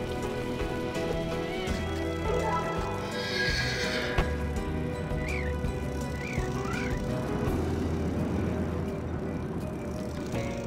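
A horse whinnies in the video game Voodoo Vince Remastered, several high neighs rising over clip-clopping hooves and a steady patter of rain.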